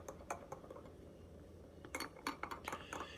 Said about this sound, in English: we really do have to stir this because there was quite a bit of powder left in the bottom